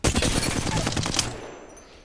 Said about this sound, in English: because it's an automatic rifle, and you can really kind of decimate your opponents